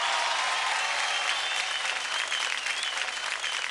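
Loud, dense applause from the audience of a TV kids' dance competition show, sustained and even throughout with a thick crowd texture.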